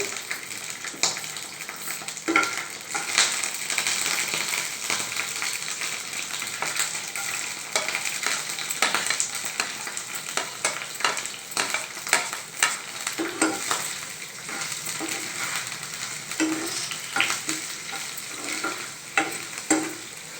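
Onions frying in a pan give a steady, close sizzle throughout, broken by frequent scraping and stirring clicks from a utensil, with no talking.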